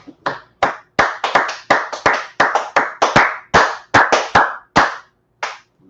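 A crowd at a scripture class claps in quick, uneven bursts, sharp slaps repeating rapidly with short gaps, loud and close.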